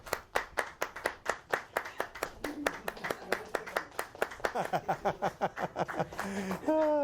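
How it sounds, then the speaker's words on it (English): Wedding guests clap for a newly married couple, Helen and Scott, right after the ceremony, with sharp claps close by, a few scattered chuckles and brief voices near the end. "you all may applaud our newly married couple"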